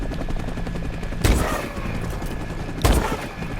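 Two heavy, booming single shots from the MORS rifle in Call of Duty Advanced Warfare, spaced about a second and a half apart over a steady background hum.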